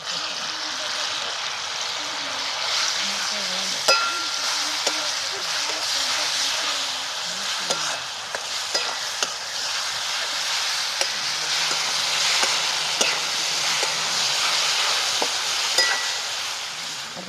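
Onion, asafoetida and ground chili sizzling in hot oil in a pan, a steady close hiss with occasional stirring clinks and faint background voices.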